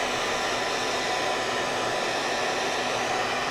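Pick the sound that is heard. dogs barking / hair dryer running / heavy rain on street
hair dryer running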